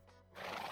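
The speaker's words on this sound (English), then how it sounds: "there were a few horses nearby that I managed to grab" A horse in a survival video game gives a short neigh that swells into a breathy, noisy whinny, heard close and fairly faint, with no talk over it.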